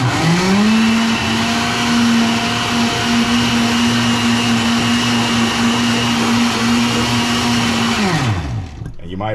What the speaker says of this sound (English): so let's go ahead and blend it a little bit more